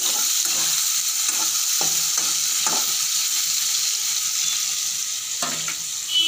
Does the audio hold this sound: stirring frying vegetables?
yes